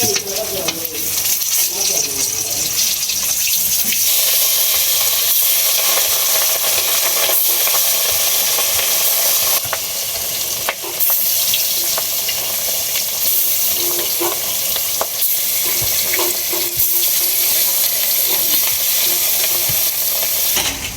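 Fish curry with flat beans, eggplant and potato sizzles and frys in a pan while being stirred, a loud continuous crackle with scraping stirs, birds calling faintly in the background.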